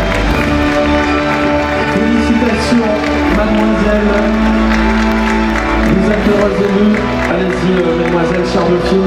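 Sustained applause and cheering from the audience at the Miss Ouest 2020 crowning, dense and loud throughout with music and crowd noise mixed in.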